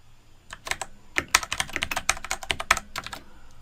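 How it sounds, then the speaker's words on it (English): Rapid keystrokes clatter on a computer keyboard in quick irregular bursts, close and crisp, continuing steadily with brief pauses and no talking. "I'm just typing"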